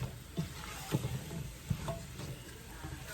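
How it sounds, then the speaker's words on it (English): Vegetables sauté in a pan with a soft, steady sizzle, broken by a few light knocks and scrapes of a utensil stirring them; quiet and close, with no one speaking. "we're just going to saute these until they're nice and soft"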